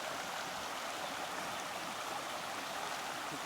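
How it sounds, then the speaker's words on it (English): A stream rushes over a trail water crossing in Cades Cove in the Great Smoky Mountains, a constant broadband wash of flowing water, moderately quiet and steady, with no one speaking. "we've got a water crossing right here"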